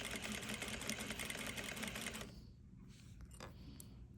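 Sewing machine stitching a collar seam with a quarter-inch allowance, a soft even whirr close by that runs for about two seconds and then stops, leaving quiet handling noise.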